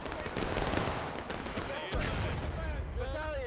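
Musket volleys in the Civil War game War of Rights at Cold Harbor: a continuous crackle of rifle fire, with a heavier boom near the middle, rolls under shouted orders and overlapping voices.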